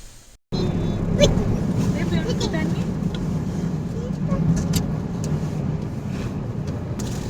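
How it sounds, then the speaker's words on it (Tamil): A car rolls slowly along a road during a long drive from Denmark to Paris, giving a steady, continuous low engine and road rumble throughout, with people talking inside over it. "வண்டி ஊர்ந்து தான் போகுது"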